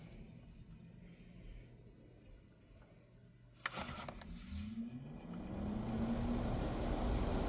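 A Vornado CR1-0029 air circulator fan switched to high speed, a click followed by a steady, rising whoosh of moving air and motor hum that builds louder over several seconds.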